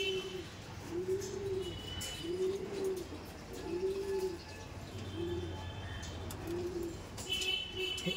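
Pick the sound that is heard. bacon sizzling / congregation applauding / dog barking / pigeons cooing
pigeons cooing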